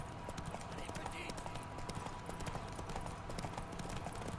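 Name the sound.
horse mare hooves clip-clopping in a video game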